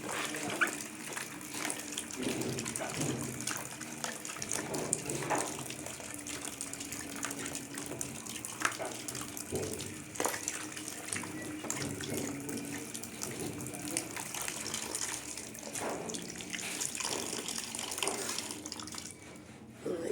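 Wild ube yam is washed under a running tap, steady gushing water close by for the whole stretch, broken by splashes and soft knocks as the tubers are handled.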